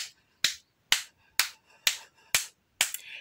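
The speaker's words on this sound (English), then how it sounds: "give me seven claps." Seven separate sharp claps from children in a kindergarten counting song, evenly spaced about half a second apart, crisp and close, with near silence between them.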